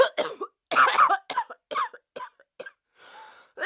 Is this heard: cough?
yes